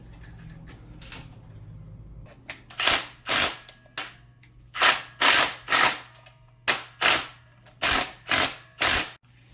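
Hand tools working while a winch is mounted, a series of about a dozen sharp mechanical clicks and ratcheting bursts in an irregular rhythm, close up and alone.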